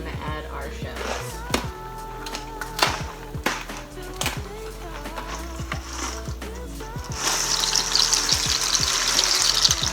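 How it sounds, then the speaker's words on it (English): Water bubbles and rumbles at a boil in a pot for cooking pasta shells, with scattered clicks and knocks, and the hissing roll grows louder toward the end. "there's our water boiling"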